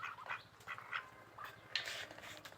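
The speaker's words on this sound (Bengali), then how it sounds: "যেগুলো আমাদের হাঁস।" Ducks quack faintly in short, scattered bursts among other farmyard fowl near a railway line, at a distance and with no talk.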